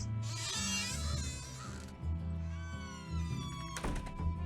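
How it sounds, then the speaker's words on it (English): Yuri the cat meows in the Nancy Drew game Secret of the Old Clock, giving long drawn-out wailing meows one after another, clear and close, with a soft thump near the end. "Otherwise, he'll just keep meowing."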